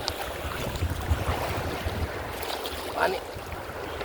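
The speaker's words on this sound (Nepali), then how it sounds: "तपाईँहरू देख्न सक्नुहुन्छ समुद्रको आज छाल धेरै आएको छ, एकदम जोडले।" Rough sea waves roll onto a beach, a steady rushing wash mixed with gusty wind buffeting the microphone, moderately loud and close.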